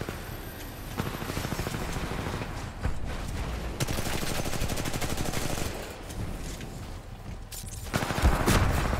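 Rapid sustained bursts of light machine gun fire rattle through a Titanfall match, dense and continuous with a few louder booms near the end, mixed with game action noise.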